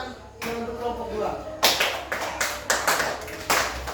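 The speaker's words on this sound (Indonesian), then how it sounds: "tepuk tangan untuk kelompok 2" A class of students in an Indonesian language lesson claps for group 2, a series of sharp, fairly close claps in a loose rhythm following a stretch of voice.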